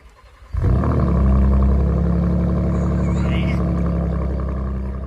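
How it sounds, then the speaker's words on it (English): A 2016 Ford F-150 with a 2.7L EcoBoost V6 and a Flowmaster FlowFx exhaust fires up after a brief quiet moment, then holds a loud, deep, steady roar close by. "what I was going for is really the sound of a V6 Raptor"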